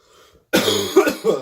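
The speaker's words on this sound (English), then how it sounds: "Sorry, this cough is just awful." A single loud, close cough, a harsh burst followed by a short second hack, with a faint breath before it.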